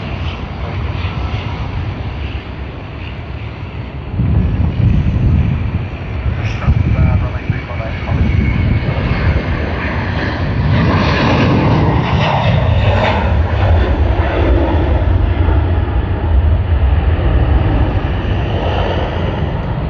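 A Rex airliner taxis past at Sydney Airport, giving a loud, sustained engine roar that swells midway and holds steady, with someone talking over it.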